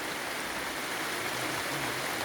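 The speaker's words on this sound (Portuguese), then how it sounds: "Chovendo." Steady, dense hiss of rain falling and water running at the Capivari reservoir, an even broadband wash that holds constant throughout with no distinct drops standing out and no voices.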